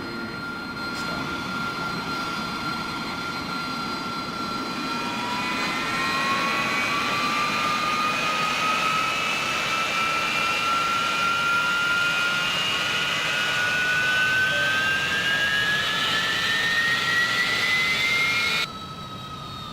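Jet aircraft engine in the DCS 2.5 flight simulator game, a loud steady turbine roar with a rising whine that climbs in pitch, sustained close up before cutting off near the end.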